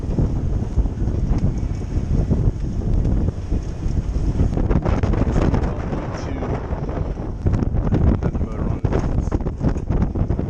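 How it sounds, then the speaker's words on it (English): Wind rushes steadily over a sailboat under a jib on open water, a loud continuous buffeting roar close to the microphone with constant gusty texture throughout. "wind's holding the bow that way."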